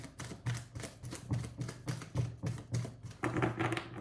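Tarot cards are shuffled by hand close up, making a rhythmic series of crisp, papery taps and slaps at a steady quick pace, with no one speaking.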